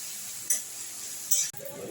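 Whole cumin and coriander seeds frying in a pan, a steady soft sizzle with two brief brighter crackling bursts and a quick clink of a spoon near the end.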